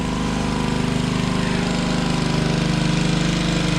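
A swimming pool pump runs steadily and loud, a continuous droning hum with a fast rhythmic pulsing, close by and without a break.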